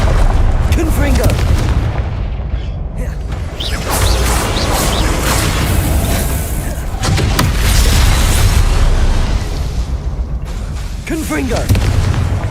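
Booming blasts from the Confringo fire spell in Hogwarts Legacy, several loud explosive thumps with rumbling tails spread across the stretch, mixed with game combat noise and a player's voice shouting over it.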